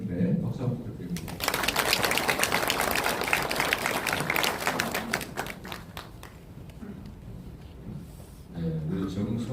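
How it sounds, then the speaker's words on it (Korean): Applause breaks out among the audience at a political town hall event, a burst of many clapping hands that starts abruptly after talk, runs several seconds, then dies away as a voice resumes. "박수 한번 부탁드립니다"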